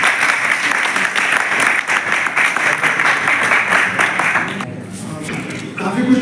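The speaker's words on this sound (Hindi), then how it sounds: "जोरदार तालियां बोलें।" An audience at a ceremony for ex-servicemen and a CRPF battalion breaks into loud, sustained applause, with voices mixed in, before the clapping thins out near the end.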